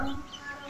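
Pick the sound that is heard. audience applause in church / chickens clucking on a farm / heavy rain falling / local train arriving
chickens clucking on a farm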